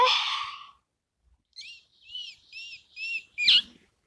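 Pet budgerigar giving a short series of four or five clear, bright chirps at moderate volume indoors, preceded by a brief breathy rush of sound.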